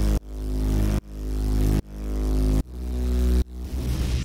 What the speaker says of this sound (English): So this is kind of like a more like neuro style bass.